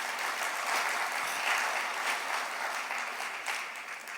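An audience at a Malayalam Christian retreat talk claps for the Lord, a sustained, dense wash of many hands clapping at fairly even volume, with no speech on top.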